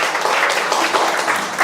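Dense, continuous applause from a county event audience for trustee candidates, a loud wash of many hands clapping at once without a break.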